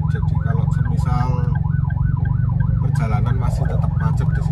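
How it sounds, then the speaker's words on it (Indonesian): A wailing ambulance siren sweeps up and down repeatedly as it passes through congested traffic on a narrow road under widening works in Leces, Lumajang, loud over a constant low engine rumble. "Wah ini pas ada ambulan lewat."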